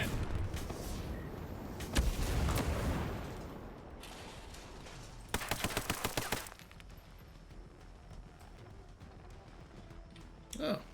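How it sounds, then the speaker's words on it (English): Explosive bursts in the Ghost Recon Breakpoint military shooter, a heavy boom followed by a rapid crackling run of blasts, then quieter background rumble and a final short burst. "Oh, a couple of grenades got him."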